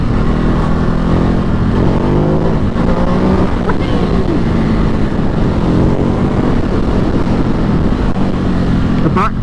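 Ducati Hypermotard 950 SP motorcycle on the road, a loud continuous engine drone with rising and falling pitch as it changes speed, buried in heavy wind rush.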